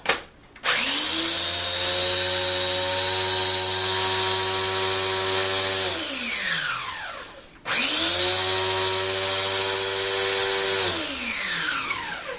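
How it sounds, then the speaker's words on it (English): Electric grinder pulverizing dry ingredients for an insect repellent powder, two loud steady whirring runs of several seconds each, each winding down as the motor coasts to a stop. "I'm just going to dump these in here, and I'm going to grind them"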